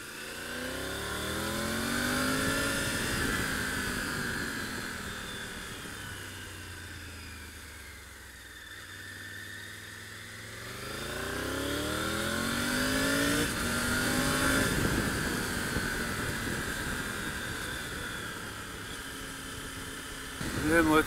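A 2025 Triumph Tiger 900 GT Pro motorcycle engine pulls through acceleration from the rider's seat, a steady mid-pitched drone that rises, eases off, then climbs again, moderately loud with wind rush.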